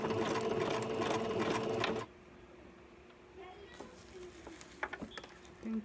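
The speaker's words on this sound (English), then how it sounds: "I'm gonna go ahead and back stitch." Embroidery sewing machine back stitching on a pink pony shirt design, a loud steady run of rapid stitching for about two seconds that stops abruptly, leaving quiet room tone with a few small clicks and handling noises.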